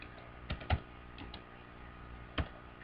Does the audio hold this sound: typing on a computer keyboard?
yes